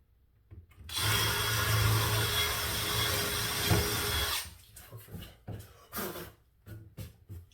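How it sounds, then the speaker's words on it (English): A power drill drilling pilot holes for screws whirs steadily for about three and a half seconds, close by, then stops, followed by light clicks and handling noises. "So drill some pilot holes first for the screws."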